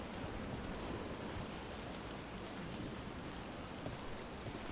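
Steady rain from a video game fills the scene, falling as a loud, even wash of hiss and patter with no pauses, heard alone without voices.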